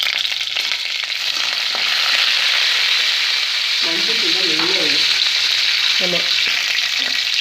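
Curry leaves crackle and sizzle in hot oil in a pan for potato masala, a constant loud frying hiss with sharp popping bursts, while a voice murmurs briefly.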